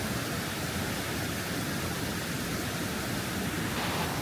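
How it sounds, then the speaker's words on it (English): Pala U Waterfall in Kaeng Krachan National Park, a steady dense roar of falling water heard close and loud, unbroken throughout with no voices. "We are at Pala U Waterfall, Kaen Krachan National Park."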